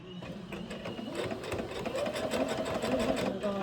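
A Baby Lock sewing machine runs steadily with a fast, even needle rhythm, close and moderately quiet, with soft talking underneath.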